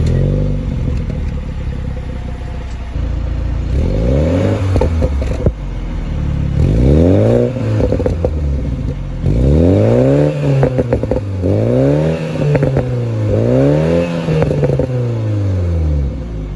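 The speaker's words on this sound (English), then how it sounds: "I wanted to give you guys a quick glimpse into how the engine sounds. So I'm going to start the car and then rev it a little bit." A 2020 BMW Z4 sDrive30i engine cranks and starts, settles to a low idle, then is revved repeatedly in rising and falling swells, loud and close, with no talk.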